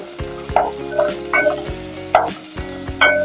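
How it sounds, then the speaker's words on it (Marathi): Black peas curry masala being stirred and sautéed in a pan for a Malvani-style dish: a spoon scrapes and knocks against the pan in repeated strokes over a steady background sizzle, close and without voices. "हलवायचं असं चांगलं परतायचं"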